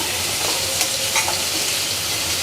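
Onion and tomato frying in hot oil for a fish curry masala: a steady, close sizzle crackles throughout, with a few faint stirring clicks and no voices.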